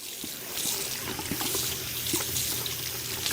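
Water runs from a tap in the video game Twin Mirror, a soft, continuous hiss and trickle with faint small clinks.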